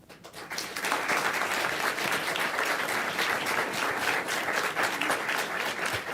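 Sustained applause from the public at a county board of commissioners meeting, swelling quickly and holding as a dense, loud crowd clapping with no speech.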